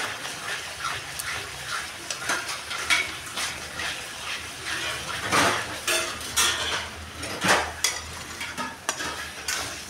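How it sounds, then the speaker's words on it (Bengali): A spatula stirs tomato, chilli powder and turmeric in a pan, giving repeated close scrapes and metallic clinks over a soft sizzle, in irregular bursts with brief louder knocks. "সবগুলো একসাথে ভালো করে নাড়িয়ে চাড়িয়ে নেবো"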